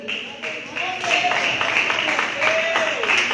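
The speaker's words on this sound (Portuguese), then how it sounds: "Ainda com as palmas." Church congregation clapping steadily during a service, a dense wash of palms under a voice talking and faint tones, loud and close.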